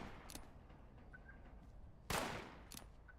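Gunfire in Fallout 76, faint and distant with a low ambient bed, a couple of quiet shots early and one sharp louder report later in the clip, no voices.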